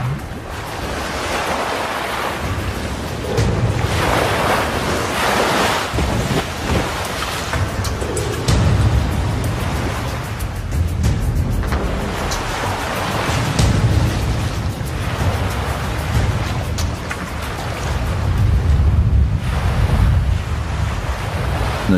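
Strong wind gusts buffet a beach amid crashing surf, a loud, constant roar with rising and falling surges of wind noise and waves.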